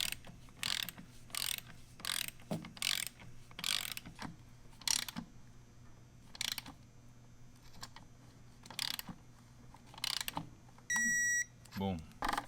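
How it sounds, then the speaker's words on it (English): A Snap-on preset torque wrench tightening rockguard bolts to 30 foot-pounds, giving repeated bursts of rapid ratchet clicking in short, evenly spaced strokes, close and fairly loud, with a faint speaking voice near the end. "you want to torque these down to 30 foot-pounds"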